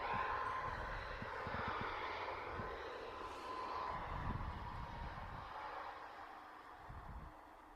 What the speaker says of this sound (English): That racket you can hear in the background, Ryanair coming in from